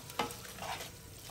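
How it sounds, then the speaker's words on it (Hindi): Desi ghee tempering with dry red chillies in a pan, a faint, short sizzle and crackle with a quick stir, close by and alone. "देने के बाद अच्छे से तड़का मार रहे हैं"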